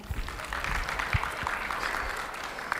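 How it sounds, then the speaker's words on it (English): Audience applause at a floral design demonstration, a steady wash of clapping from a crowd that holds at an even level for a few seconds with a few sharper claps standing out. "Round of applause for Kelsey."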